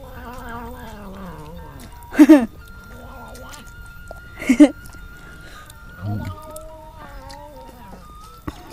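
A cat vocalizes close by with a string of chattering, warbling meows and a few louder, rough bursts.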